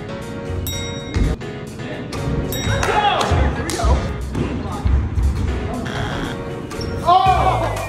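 Basketballs thud and bounce repeatedly at a giant basketball arcade game, a steady run of close, loud bounces and rim pings with people talking and shouting throughout.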